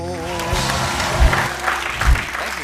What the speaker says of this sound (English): That applause lasted longer than CNN Plus.